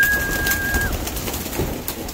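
Pigeons coo softly and steadily inside a loft, close by with low throaty calls, while a brief faint whistle-like tone sounds early on.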